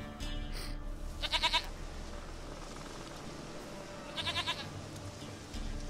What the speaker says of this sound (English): Hey, look! A goat!